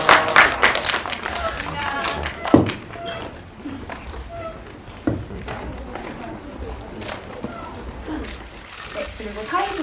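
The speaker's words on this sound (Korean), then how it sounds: "마지막으로 다시 또 큰 박수 부탁드립니다" Audience applause at a film press screening, brief scattered clapping that quickly thins out into a few sharp claps while a host speaks over a quiet room.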